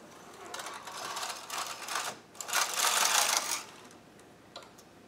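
A chunky knitting machine clatters softly as a multi-needle pusher slides several needles at once, faint rustling mechanical swishes rising in two longer bursts with quiet gaps.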